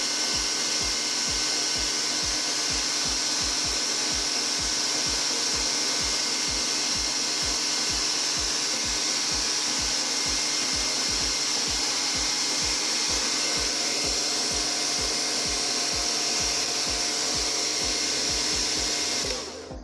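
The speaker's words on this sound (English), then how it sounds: "It's pretty loud, but it works really well, and it picks up most of the fumes." Steady, loud roar of a homemade solder fume extractor built from a broken hair dryer, running continuously with a fast low mechanical pulsing beneath the hiss, then cutting off at the very end.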